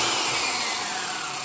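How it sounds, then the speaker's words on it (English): An electric hammer drill with a sideways stability handle runs steadily and loudly close by, a continuous broadband whirring roar with no pauses and no talking. "I pulled out my electric drill and it's got hammer action"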